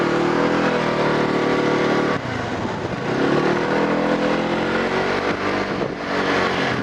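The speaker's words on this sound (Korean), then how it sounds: "근데 지금 이렇게 오토바이로 달리니까" A Peugeot Django 125cc classic scooter's engine hums steadily while riding at about 30 km/h, with wind rush and slight shifts in revs, close and loud throughout.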